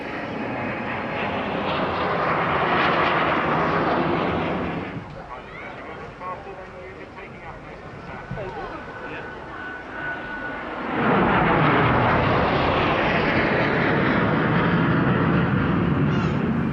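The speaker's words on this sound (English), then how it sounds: "The Gnat was used as the Royal Air Force's advanced jet trainer until it was replaced by the BAE Hawk in 1979." Folland Gnat jet trainer roaring past at the Eastbourne airshow, a loud sustained jet rush that swells, drops to a quieter rumble midway, then surges back strong to the end.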